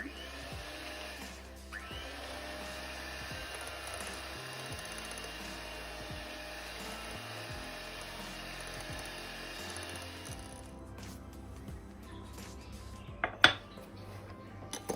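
Eggs and sugar are whisked in a bowl for a tahini cake made with corn flour, giving a steady, fast rhythmic clatter of the whisk against the bowl that runs close and continuous, with a few sharper knocks near the end.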